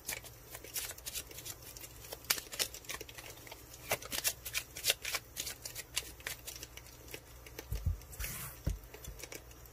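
Close, soft shuffling of tarot cards with many quick taps and slides in an uneven stream, plus a couple of dull thumps near the end, quiet and without talking.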